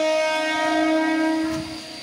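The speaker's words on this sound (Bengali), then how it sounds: "চলো ট্রেন চলে যাক আর আমরা বাড়ি যাই।" A train at a station sounding a long, loud, steady horn blast, fading slightly toward the end with faint rumble beneath.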